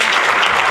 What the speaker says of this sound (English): So please join me in giving Eleanor a final round of applause.